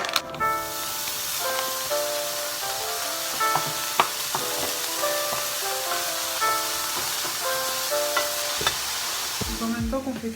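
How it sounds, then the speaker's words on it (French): Lardons sizzle in a hot frying pan with no added fat, a steady crackling hiss under scattered pops and occasional scraping stirs, close and fairly loud throughout with no voices. "En même temps qu'on fait cuire les lardons"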